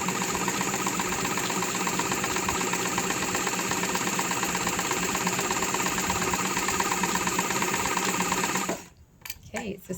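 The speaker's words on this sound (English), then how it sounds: "And we'll just go through this real fast with a straight stitch." A Singer 237 heavy duty sewing machine with steel gear drive, sewing a fast straight stitch through canvas. The rapid, steady mechanical chatter runs continuously and close for about nine seconds, then stops with a few brief clunks.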